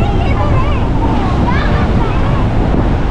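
Ocean surf at a Goa beach during the monsoon, a dense continuous roar of waves mixed with heavy wind buffeting the microphone, loud and close.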